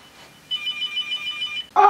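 A telephone rings with a steady electronic trill lasting just over a second, followed by a sudden louder burst of sound.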